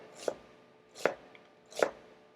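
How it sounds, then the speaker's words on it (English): A knife cuts through an onion in three separate crisp chops about three-quarters of a second apart, close and fairly quiet, with nothing else in between. "You are not looking around while you're cutting up an onion"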